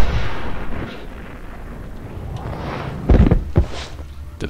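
Gunfire in the Max Payne video game: a dull low rumble gives way to two loud, heavy booming shots close together near the end.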